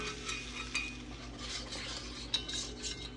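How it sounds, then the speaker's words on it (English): Caramel pie filling stirred in a pot, a utensil scraping and clinking softly against metal with faint, steady motion at low volume and no talk. "Get it all stirred together because it sets up pretty quickly once you get that stirred together"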